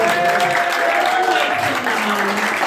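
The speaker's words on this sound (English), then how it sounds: "Can we have a big round of applause for everybody for coming down?" A crowd applauds steadily throughout at a QPR-themed music performance, with a faint voice and a held tone running beneath the clapping.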